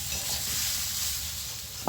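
Pumpkin and bitter gourd fry in an uncovered pan, giving a brief, close, continuous sizzle with the scrape of stirring and a sharper knock at the very end.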